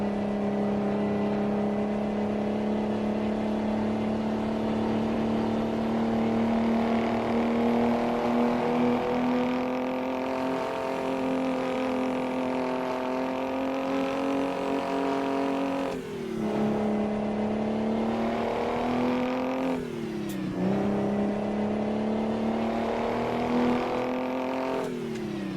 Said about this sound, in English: How does the engine not get like ridiculously hot working at this kind of rev range?